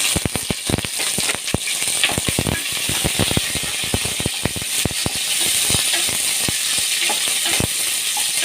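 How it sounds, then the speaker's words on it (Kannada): Chopped onion and green chillies frying in a pan for soybean pulao, a steady close sizzle broken by frequent sharp clicks and scrapes of a spoon stirring against the metal. "ಇದು ಸ್ವಲ್ಪ ಫ್ರೈ ಆಗಿರಲಿ ಈರುಳ್ಳಿ ಹಸಿಮೆಣಸಿಕಾಯಿ"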